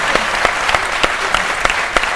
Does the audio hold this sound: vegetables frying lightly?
no